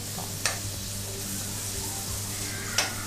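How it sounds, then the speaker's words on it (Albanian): Chicken fillet frying in a pan, a steady close sizzle with a couple of brief louder pops. "Pra kemi kaluar fileton e pulës në një skuqje"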